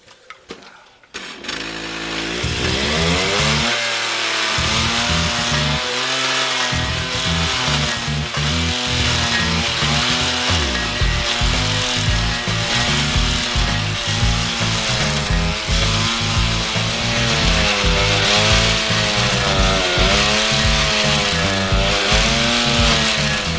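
An Alpine stump grinder with sharp teeth cuts into a wood stump, a loud continuous whirring grind with engine drone that wavers in pitch as the cutter bites, steady for the whole stretch.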